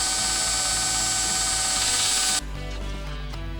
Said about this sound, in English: So I'm only just grinding off the minimum of what I need to grind off.